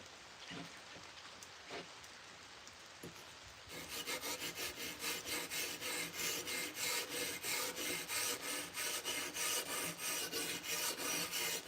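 A sword blade being sharpened: after a few soft scrapes, a loud, steady, rhythmic rasping of strokes runs close by and continues without talk.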